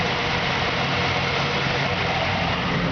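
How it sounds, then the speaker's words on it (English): The original engine of a 1949 Ford F1 pickup with a 6-volt electrical system idles close by, a steady, even, dense rumble that holds without change for a few seconds. "The engine just purrs perfect."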